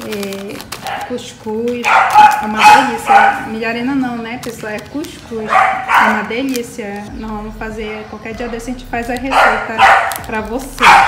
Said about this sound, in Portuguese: Pessoal, tem um cachorro latindo aí, vocês desconsiderem esse latido aí